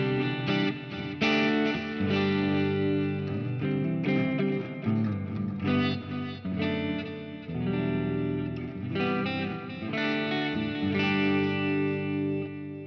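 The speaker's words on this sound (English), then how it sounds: "now I'm going to bring in my delay and my reverb" An electric guitar plays through a Plethora X5 pedal board with delay and reverb added to a clean tone, sustained chords and notes ringing loud and full, with echoing tails spreading behind each phrase.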